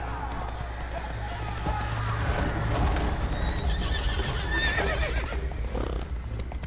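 Horse hooves clip-clop at a steady gallop while the horse neighs and whinnies in The Witcher 3, with game music and ambience underneath and a voice speaking over it.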